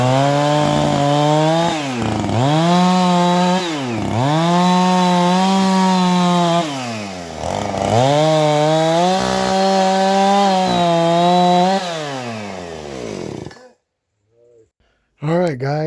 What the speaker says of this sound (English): I'm going to take the chainsaw and cut it.